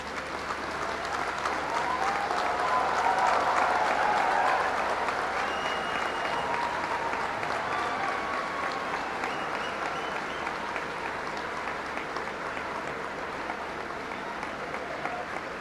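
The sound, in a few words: audience applause at IIT Madras convocation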